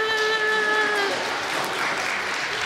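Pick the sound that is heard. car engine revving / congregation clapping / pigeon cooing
congregation clapping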